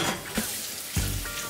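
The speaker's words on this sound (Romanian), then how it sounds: "acum urmează să punem la prăjit legumele." Vegetables frying in oil in a home pan for a spicy dish, a steady broadband sizzle with two brief louder bursts as food is added or stirred, close and alone without voices.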